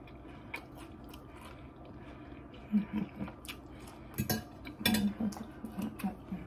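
Crunchy bites and wet chewing of a spicy jalapeno taco, with close crisp crunches in irregular bursts and a few soft clicks, against a quiet room and with no speech.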